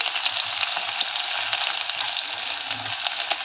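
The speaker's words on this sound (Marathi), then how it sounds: "तर इथे कांदा तळत आला" Chopped onion frying with cumin seeds, a steady close sizzle with light stirring scrapes and occasional low knocks of the utensil, no talking.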